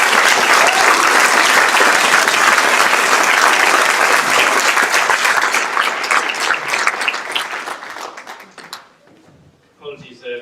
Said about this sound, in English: maybe we should just give ourselves all a big round of applause before we go